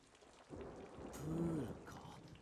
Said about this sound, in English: Can't even see the other side of it with all the rain.